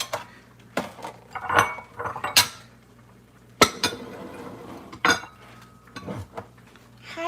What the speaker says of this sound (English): washing dishes